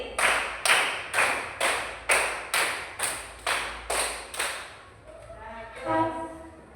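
A class of children claps a counted pattern together: about ten sharp, evenly spaced claps in unison, fairly close, followed by a short burst of children's voices.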